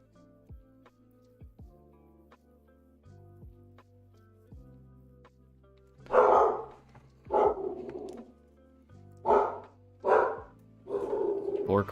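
A dog in a game mod barks in several loud, short bursts over the second half, after a quieter stretch with faint clicks and a low background tone.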